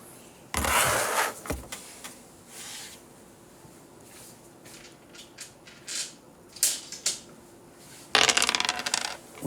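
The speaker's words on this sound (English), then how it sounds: "I'm going to use the dice of destiny to call on somebody," Dice rattle and clatter on a hard surface in a classroom, with a sharp burst early, a few scattered smaller knocks, then a louder tumbling burst near the end. Quiet room noise lies between the bursts.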